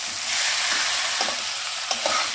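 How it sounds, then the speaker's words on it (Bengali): Ground spices are stir-fried in a pan for Bengali muri ghonto with catla fish head, making a loud, close, continuous sizzle broken by a few scraping stirs of the spoon, with no one talking. "খুব ভালো করে কষে নিতে হবে, যাতে মশলার কাঁচা গন্ধটা না থাকে।"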